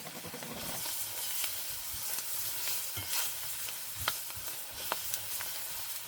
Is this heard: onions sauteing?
yes